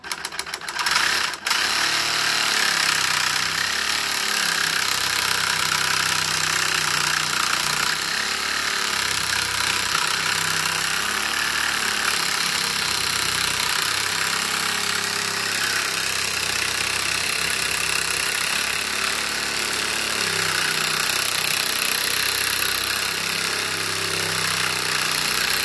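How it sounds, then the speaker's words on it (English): A 350 Legend rifle barrel being cut down with a power tool gives a continuous loud, harsh grinding whine that runs unbroken at close range for the whole stretch after a brief start-up. "So we're going to lop this barrel off, get down 24 inches."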